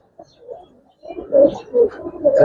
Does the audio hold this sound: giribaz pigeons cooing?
yes